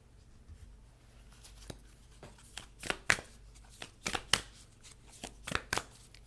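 Moonology oracle cards being shuffled up close, a series of soft riffling flicks and papery slaps in irregular bursts that grow busier toward the end.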